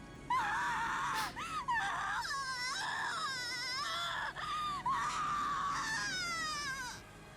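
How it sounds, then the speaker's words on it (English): Erika Furudo, a female character in the visual novel game Umineko Chiru, screams in anguish while clutching her head: a loud, sustained wail broken into several rising and falling cries, heard alone without talk. "Erika crouched, screaming and clutching at her head."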